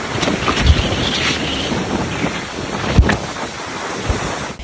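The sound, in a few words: wind whistling and big waves on Batan Island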